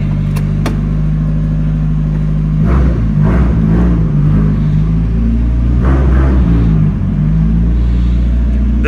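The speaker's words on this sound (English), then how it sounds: "I guess we're gonna go take it for a test drive and see how it does" A Mazda Miata rolls out of a shop driveway, its engine rumbling steadily close by, with low revving swells as it pulls away; no one talks.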